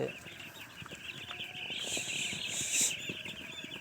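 Chickens on a poultry farm cluck and call in brief bursts over a background hiss, with louder, shriller calls rising near the end.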